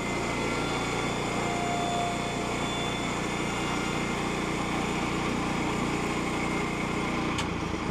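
A sawmill engine runs at a steady, loud drone while cutting boards from a cant, with a brief sharper click near the end.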